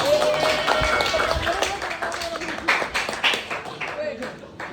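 A high school class claps hands together, a dense patter of many claps mixed with voices talking over it throughout.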